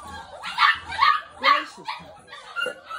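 Five-week-old puppies on a veranda let out a run of high yips and small barks, several sharp bursts in quick succession with a softer whimper near the end, close by.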